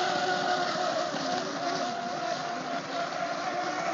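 Unlimited hydroplane racing boats roaring on the final lap of a heat, a dense, sustained engine drone heard from a distance, steady throughout without a break.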